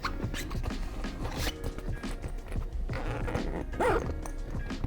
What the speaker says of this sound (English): We'll unzip it all the way around just to give you an idea of what's in there